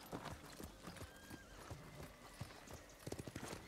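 A horse gallops in Ghost of Tsushima, with a steady rhythmic run of hoofbeats under game ambience, fairly faint throughout.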